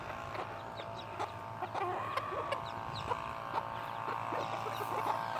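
Silkie chicks and a hen clucking and peeping in a pen, soft repeated calls scattered across a few seconds, fairly faint over a low steady background, no voices.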